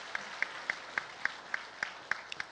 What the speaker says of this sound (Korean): 우리 청년들을 위해서 여러분 큰 박수 보내드리기 바랍니다.